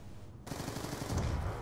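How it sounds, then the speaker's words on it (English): Rapid machine gun fire bursts loudly from the Die Rise zombies map in a video game, starting abruptly after a short quiet moment and continuing as dense, rattling gunshots with a heavy low-end thud. "I'm hearing gunshots,"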